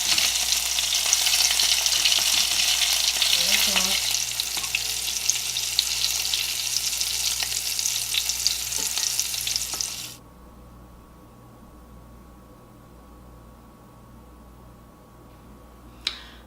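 Breaded medium shrimp and hand-cut red skin potato fries fry in hot oil with a loud, steady crackling sizzle for about ten seconds, then it drops abruptly to a faint low hum with a brief click near the end.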